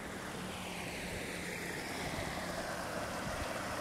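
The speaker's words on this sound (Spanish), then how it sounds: "con el sonido del agua golpeando las piedras" Water of the Cañaveralejo river rushes over and strikes stones in a steady, continuous broadband wash, fairly close, with no talking.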